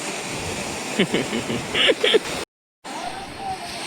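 Steady roar of sea waves washing in at Malvan Beach, with voices talking over it and a brief cut to silence midway.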